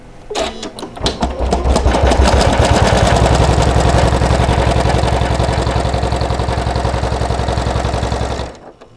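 A sewing machine runs steadily for about eight seconds, close and loud, with a fast rhythmic mechanical chatter as it stitches split suede for an artist roll.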